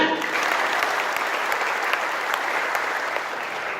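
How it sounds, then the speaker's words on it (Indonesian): A crowd applauds at a Forkabi regional congress in Jakarta, a dense and steady wash of clapping that holds evenly for several seconds and fades only slightly at the end. "Tepuk tangan."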